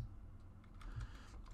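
Faint computer keyboard typing, soft, irregular clicks heard distantly behind a low background hum during a podcast recording.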